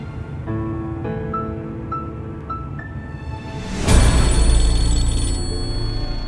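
A mobile phone ringtone plays a repeating tonal melody, then a louder, brighter burst of ringing takes over partway through, continuing to the end with no talk.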